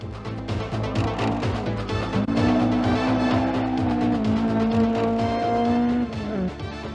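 A Ford RS 2000 rally course car at a Welsh forest rally drives hard on a gravel stage, with a loud sustained engine whose pitch climbs and holds through revs and gear changes, heard close and alone for several seconds.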